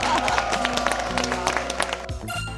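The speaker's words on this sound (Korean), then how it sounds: "박수 부탁드리겠습니다" A studio audience applauds at a live Korean health show on acupressure for back pain, a steady patter of clapping that fades out near the end.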